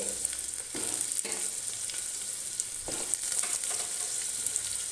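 Pumpkin pieces fry in a pan over a medium flame, giving a steady sizzle with a few louder stirring scrapes, and no one speaks.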